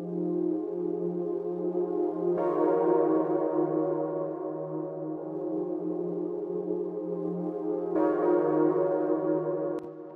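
Digital synth pad given added analog warmth, held sustained chords with a wobbling low tone, changing chord twice, smooth and continuous with nothing else present.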